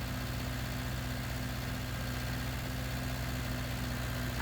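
Tractor engine idling steadily in Farming Simulator 19, a low constant drone with a faint hum throughout and no talk over it.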